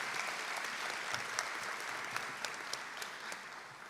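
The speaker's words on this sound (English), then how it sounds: "round of applause." A commencement audience at a health sciences school gives sustained applause, a steady wash of many hands clapping at a moderate distance, with a few sharper claps standing out.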